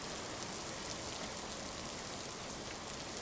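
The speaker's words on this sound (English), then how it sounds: "Let's get out of this rain." Steady rain falls in the video game Jasei no In, a dense, even hiss of heavy downpour that continues unbroken throughout, with no voices.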